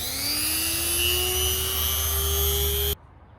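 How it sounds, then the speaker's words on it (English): A Dremel rotary tool cutting vents into a Mk1 Volkswagen Rabbit hood, a loud close whine climbing steadily in pitch for about three seconds before stopping abruptly. "Got the Dremel."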